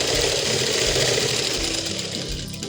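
A sewing machine stitches a readymade blouse during an alteration, giving a loud, fast, continuous mechanical whir with a rapid pulsing rhythm that holds steady, close up.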